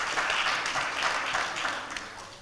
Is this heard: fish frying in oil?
no